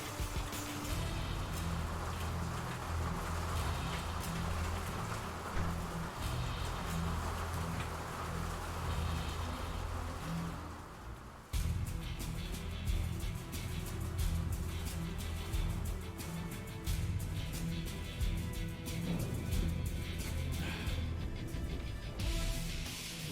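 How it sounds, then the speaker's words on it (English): Heavy rain pours steadily outside a window, a dense continuous wash of drops lasting throughout with a brief dip midway, no voices over it. "It's raining so fucking hard right now."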